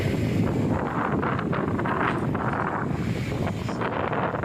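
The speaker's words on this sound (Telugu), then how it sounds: "ఈ యొక్క బంగాళాఖాతంలో మనం చూసినట్లయితే ఈ అలల యొక్క ఉద్రిక్తి దీని ప్రభావం ఎక్కువగా ఉంది" Strong waves pound Thupilipalem beach on the Bay of Bengal during Cyclone Mandous, a loud continuous roar of surf with heavy wind buffeting the microphone, no voices.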